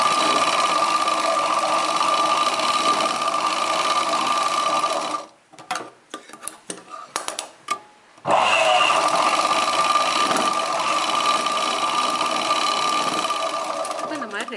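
A sewing machine stitches a chudidar pant in a loud steady whirring run, pauses briefly for a few stuttering stitches, then resumes its continuous hum, with someone speaking over it.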